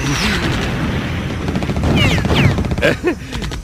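Heavy artillery sound effects in a Donkey Kong Country cartoon battle: a run of rough blasts and crashing bursts with whistling streaks, mixed with animated voices.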